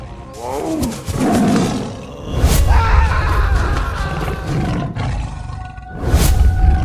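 An animated Sundarban tiger lets out deep, loud roars and growling snarls in several bursts, alone and close up, with booming swells between them.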